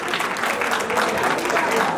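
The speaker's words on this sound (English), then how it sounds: "Please give a big hand clap to Bessie Kine." An audience gives a big round of applause for Bessie Kine, vice presidential candidate, as she takes her seat: brisk, steady clapping from a crowd throughout.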